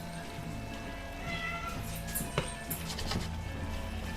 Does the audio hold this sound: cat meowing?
yes